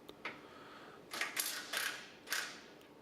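A ratchet or wrench working on the sway bar frame bracket of a 2005 Toyota 4Runner, a few short clicking and creaking bursts in separate strokes, fairly quiet and close, with no talking.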